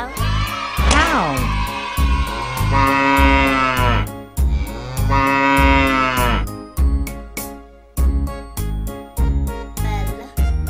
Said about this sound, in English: Is it a cow? Cow.